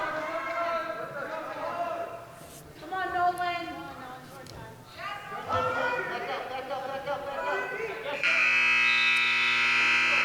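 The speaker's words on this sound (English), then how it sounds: "And there's the buzzer for the end of the first round." A loud, steady electronic buzzer sounds at a high school varsity wrestling match to end the first round. It blares alone near the close, after continuous play-by-play commentary.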